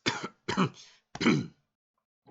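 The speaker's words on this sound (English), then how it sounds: "coughs." Three short, rough coughs in quick succession, close and dry, followed by silence and a faint trailing sound at the end.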